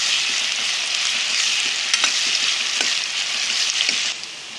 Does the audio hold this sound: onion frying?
yes